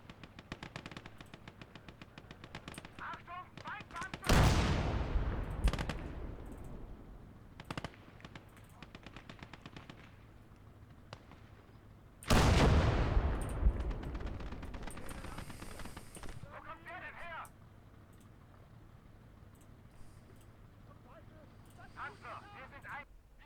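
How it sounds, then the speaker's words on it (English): Artillery and small-arms fire from Call to Arms: Gates of Hell: two heavy, booming shell impacts stand out over scattered rattling bursts of gunfire in a World War II battle. "God, so much artillery."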